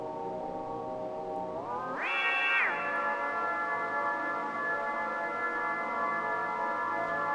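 An Ableton Meld synthesizer sustains a buzzy, harmonically rich tone that bends upward in pitch, holds briefly, then slides back down and drones on, strange and unstable.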